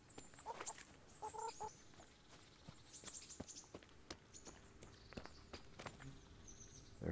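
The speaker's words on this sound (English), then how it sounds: "Hello, chickens." Chickens clucking in the medieval game Kingdom Come: Deliverance, a busy cluster of soft clucks and short squawks going on throughout, moderately near over a low ambient background.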